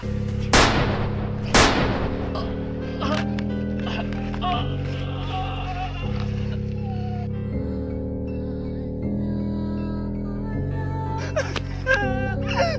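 Two loud sharp gunshots fired at a zombie in a staged comedy skit, followed by sustained music tones and excited voices.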